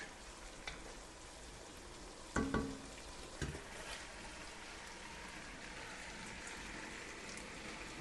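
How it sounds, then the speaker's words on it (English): Spinach goes into a pot with creamy chicken and sun-dried tomatoes, giving a steady low sizzle and crackle of cooking, with a couple of brief louder clatters and stirring knocks near the start. "the next item to go in the pot will be the spinach"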